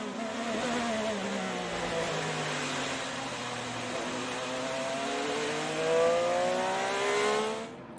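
IndyCar race cars in open testing sweep through turn 2 of a track, with loud high-pitched engine notes that fall and then climb through the corner as several cars pass and blend together.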